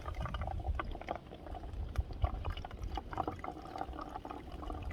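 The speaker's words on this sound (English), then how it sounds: "it's just a matter of squeezing it through the filter into the bottle" Water squeezed through a Sawyer filter into a bottle, a soft continuous bubbling and trickling stream with faint gurgles, quiet and close.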